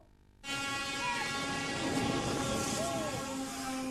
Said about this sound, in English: As the train passes by